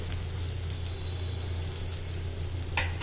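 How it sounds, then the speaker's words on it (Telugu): Cauliflower pieces with turmeric fry in a pan while being stirred, giving a steady close sizzle with a brief scrape near the end. "ఇలా తిప్పుకుంటూ వేయించుకోండి"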